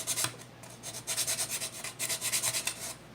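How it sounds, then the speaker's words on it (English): Sandpaper rubs back and forth over a wooden edge while shaping a Native American flute, a soft rhythmic scratching in quick strokes, close and faint with no talk. "I'll sand that a bit, just rounding off that edge."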